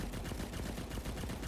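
Rapid sniper rifle fire in a first-person shooter, a dense, continuous burst of shots that is quiet and blurred as if from a distance, with no voices.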